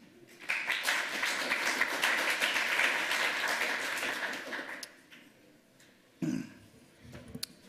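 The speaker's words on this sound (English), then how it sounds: "give him a round of applause for, for dealing with my screw up for that one" An audience at a conference lightning talk session gives a round of applause, dense clapping lasting about four seconds before tapering off, followed by a brief throat clear.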